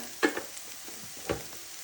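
Chili powder for a chicken curry sizzles in hot oil over medium-low heat, a faint hiss broken by two clear clinks of the stirring spoon against the pan, close and quiet, with no speech.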